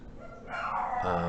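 Dogs barking at something outside, heard indoors as a muffled, continuous burst of yips and whines over steady background noise.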